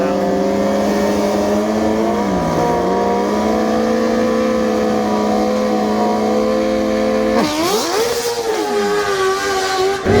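A drag racing car, a 2020 model, accelerates hard down the track against a 2017 car, its engine loud and close as the pitch climbs steadily and then drops briefly with a gear change before rising again.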